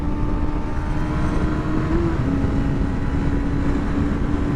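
A 2023 Suzuki GSX-250R motorcycle engine at full throttle drones steadily, its buzzing tone mixed with heavy wind roar at speed, loud and unbroken throughout with no voices.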